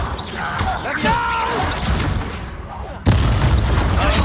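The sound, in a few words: Confringo and Incendio spells exploding in video game Hogwarts Legacy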